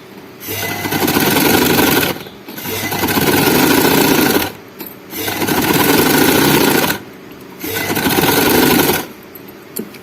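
A sewing machine running close and loud in four steady bursts of rapid stitching along a seam, with short pauses between runs.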